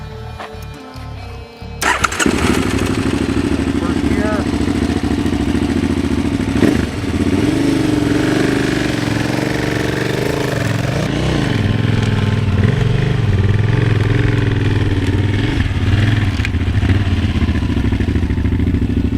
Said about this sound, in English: Get the bike slightly moving, and then immediately get your weight where you can continue on up the hill without spinning or sliding out